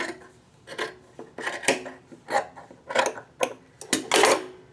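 Scissors snip through fabric between sewing lines in a series of crisp, close cuts, about a dozen irregular snips with short pauses between them.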